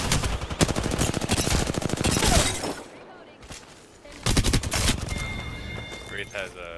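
Rapid automatic gunfire in the Apex Legends video game, dense bursts of loud clattering shots in quick succession, a brief lull, then more volleys and scattered electronic effects, with a player talking at times over the action.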